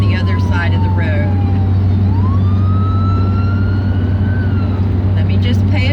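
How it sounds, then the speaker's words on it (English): An emergency vehicle siren wailing from the other side of the road, its rising and falling tone faint and distant over loud steady traffic hum and engine rumble, fading away by the end. "I hear a siren, but I don't see a thing."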